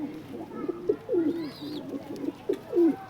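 Teddy pigeons, Omani and Saki hens, coo in a series of soft, low, throaty phrases close by, with a faint higher chirp in the background.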